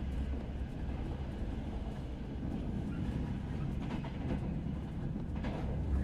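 A train rattling along the rails in the video game Reveil, a continuous low rumble with faint clicking and clacking that holds steady throughout, no voices present.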